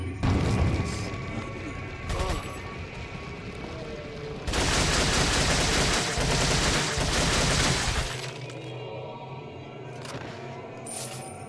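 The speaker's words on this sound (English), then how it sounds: "And then go ahead and grenade them." Grenade blasts and gunfire in the video game Resident Evil 4: sharp crashing bursts early on, then a long roaring stretch of rapid explosive fire before the din drops to quieter game ambience.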